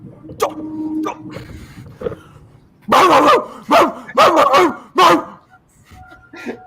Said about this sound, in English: No barking! Bad boy!